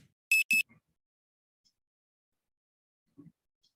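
Two short loud electronic beeps from a quiz competition timer, close together near the start, then quiet with faint brief voices.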